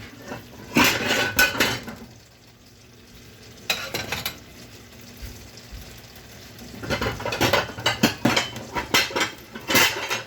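Plates and cutlery clatter in a small home kitchen during cooking, sharp clinks and scrapes arriving in bursts, with a quieter pause in the middle before a busier run of clanking toward the end.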